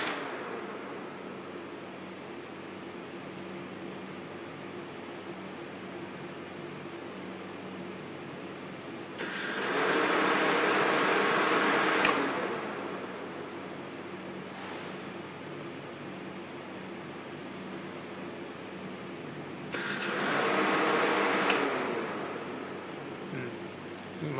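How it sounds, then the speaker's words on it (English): A Danfoss Maneurop cold room compressor and its fan run with a constant mechanical hum and whir, broken twice by louder hissing, rushing surges lasting a couple of seconds each before settling back to the steady drone. "I'm not sure if that noise was something in the fan or something in the compressor."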